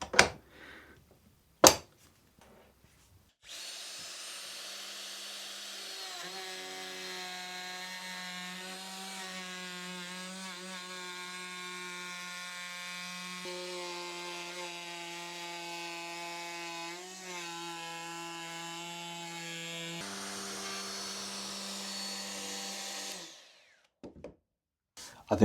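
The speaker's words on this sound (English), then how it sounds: "put it in the router and round over the top and the bottom." A router fitted with a Freud cutter rounding over the top and bottom edges of a wooden mid-century style coffee table, a sustained loud whine running for about twenty seconds, starting and stopping abruptly, with no talk over it.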